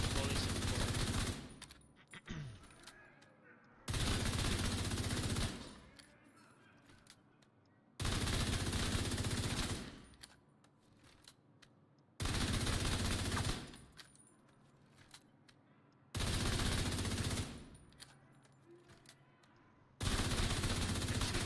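Assault rifle bursts in The Division 2 fire at targets, five loud sustained volleys of rapid automatic gunfire spaced evenly with quiet gaps between them.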